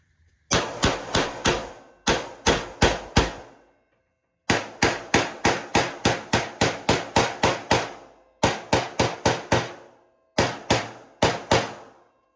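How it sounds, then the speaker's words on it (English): Bursts of sharp metallic hammer blows on the edge of a Ford Model A trunk lid skin, in quick rhythmic groups of four to ten strikes, separated by short pauses, close and loud with no talking. "we'll start working with our hammer on the edge here."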